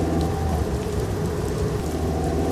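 Heavy rain pours steadily with low rumbling thunder beneath it, a dense, continuous storm wash at constant loudness and no voices.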